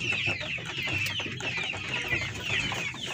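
A Plymouth heritage rooster clucking steadily at close range, a continuous run of short throaty clucks with no talk over it.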